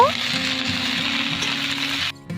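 Mustard greens (rai shak) with black cumin fry in a hot pan, giving a steady, fairly loud sizzle that fills nearly the whole stretch, breaks off briefly near the end and then resumes, with a faint low hum beneath.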